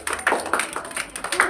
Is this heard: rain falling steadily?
no